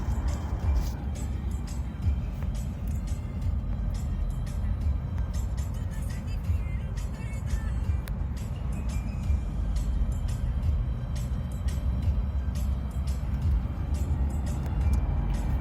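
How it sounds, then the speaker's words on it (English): Cars driving along a mountain road make a continuous, moderately distant traffic rumble, with occasional vehicles passing and wind buffeting the microphone. "There are like some cars going."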